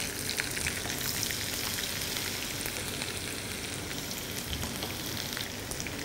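Green chillies frying in hot tempering oil with dried red chillies, urad dal and chana dal for a cabbage and moong dal curry: a dense, steady, close sizzle throughout, with no talking.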